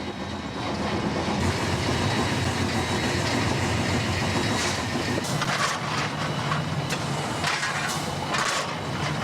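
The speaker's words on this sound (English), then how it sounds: "It's hard work for the fireman on this coal-fired loco" Coal-fired steam locomotive running on rails through New Zealand, a steady loud rumble with rhythmic wheel clatter and hiss continuing throughout, with no voices.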